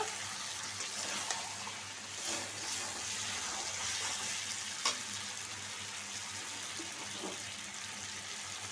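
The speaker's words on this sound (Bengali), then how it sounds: "এখন আমি জল দিয়ে দিব" Water streams into a pan of chicken curry (lightly spiced chicken in a thin gravy) cooking on the stove, a soft continuous hiss and splash with a few faint clinks, close by and quiet, no talking.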